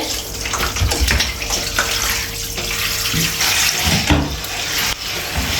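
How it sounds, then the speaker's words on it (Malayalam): Water gushes from a tap into a baby bathtub, a constant loud splashing stream that carries on without pause. "വെള്ളം നിറയട്ടെ"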